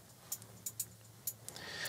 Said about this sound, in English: In this track, I made this hi-hat pattern that sounds like this.